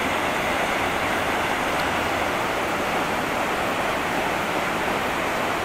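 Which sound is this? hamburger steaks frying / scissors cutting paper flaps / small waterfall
small waterfall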